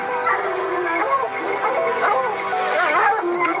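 Dogs at a rescue site on an undeclared breeding operation with around thirty dogs, whimpering and whining continuously in high, wavering cries, several animals close by, with no talk over them.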